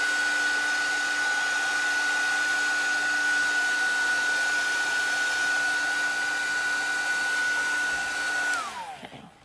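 Heat tool blowing steadily while heat-setting paint on a fabric mask, a loud even whooshing roar with a constant whine that holds for about eight seconds before the motor clicks off and winds down.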